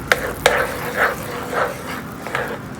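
A spoon stirring butter into hot sugar syrup in a pan for millet popcorn, with the heat just turned off: a couple of sharp clinks against the pan, then soft rhythmic scraping and gentle bubbling, close up, no talk.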